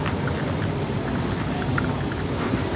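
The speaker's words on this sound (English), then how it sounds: "we're back at Russell now, with it raining sideways." Heavy rain driven sideways by strong wind pours steadily on Russell Island, a dense, loud and continuous hiss with scattered drop impacts and no talk.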